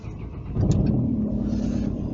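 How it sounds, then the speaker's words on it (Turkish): A car with its exhaust silencers fully removed starts up and revs, a loud, rough low rumble that swells abruptly and holds steady, crackling and popping close by. "şimdi sizi aracı çalıştırayım bakalım ses nasıl"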